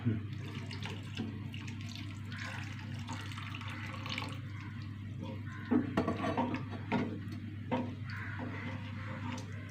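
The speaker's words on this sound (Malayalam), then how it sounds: "തേങ്ങാപ്പാൽ ഒഴിച്ച് കൊടുക്കാം" Coconut milk poured into a simmering Kerala-style curry, a soft liquid trickle and splashing with a few clinks of a utensil against the pan, close and fairly quiet.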